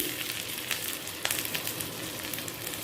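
Chopped garlic and chilli fry in a spoonful of ghee in a tarka pan, giving a dense, close, continuous sizzle with a few sharper crackles and no voices.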